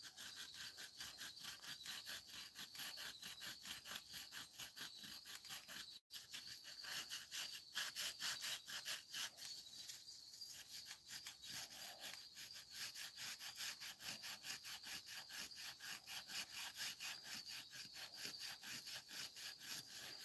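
A scraper works stubborn gasket remnants off the cylinder head of a 96-05 Chevy Astro or GMC Safari in rapid, rhythmic rasping strokes, steady and close, with one brief pause early on and no talk.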